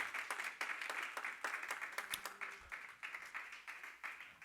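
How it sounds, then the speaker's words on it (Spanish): Congregation clapping in a church during a sermon, a rhythmic run of fairly faint, evenly spaced claps with no one talking. "por lo menos dale palmas si le crees a Dios"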